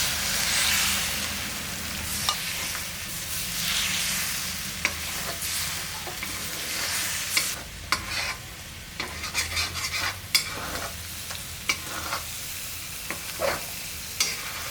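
Egg being stir-fried in a lightly oiled pan for egg fried rice, a steady sizzle with repeated scraping and clinking of the spatula against the pan, close and continuous with no talk.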